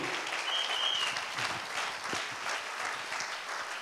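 Congregation in a church applauding and acclaiming the Lord, sustained crowd clapping at a steady moderate level, with faint scattered voices mixed into the applause.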